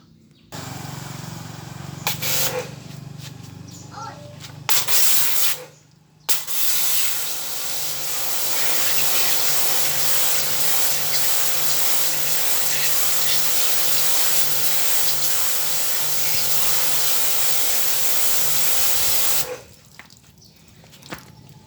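A car seat belt being cleaned with a pressure spray and scrubbing, producing a loud, steady hissing wash that runs for most of the stretch, bracketed by short bursts of rubbing and handling before and after.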